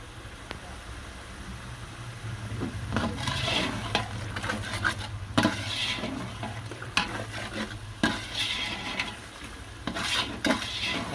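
A spoon scrapes and stirs spices roasting in ghee in a pot for chana pulao, with a low sizzle beneath repeated metallic scraping strokes of irregular rhythm.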